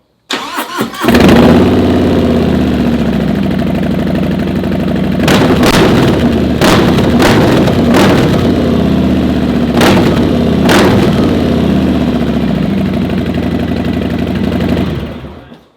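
A 2018 Harley-Davidson Softail motorcycle fitted with a Two Brothers Racing exhaust starts and idles close by with a steady, loud, deep rumble, broken by several sharp throttle blips near the middle.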